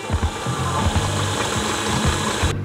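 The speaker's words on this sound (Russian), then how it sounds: "Идем в миксер, либо можно даже ручным венчиком это все смешать." An electric mixer beats sponge cake batter in a bowl, a steady close mechanical whirring with a rapid rhythmic clatter and regular pulsing beats that continue to the end.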